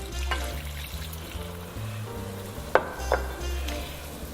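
A cup of red wine sizzles and fries as it hits a hot pan holding braised beef, a steady crackling hiss with a few louder splashes and clinks midway, no voices.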